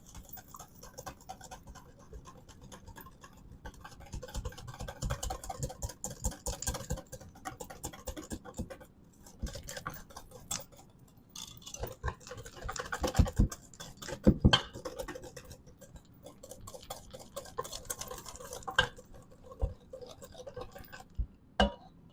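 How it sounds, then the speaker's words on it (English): Alabama white BBQ sauce ingredients being stirred in a bowl, with soft irregular scraping and tapping of a utensil against the bowl, close and fairly quiet, building to sharper clinks midway. "Give everything a good mix."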